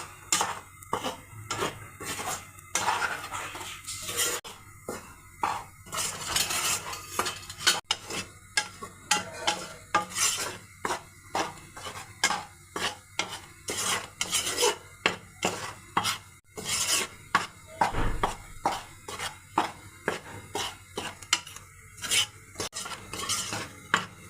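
Idiyappam rice flour being dry-roasted in a pan, with rhythmic scraping and rubbing strokes repeating close up, punctuated by occasional sharper clinks of the utensil against the pan.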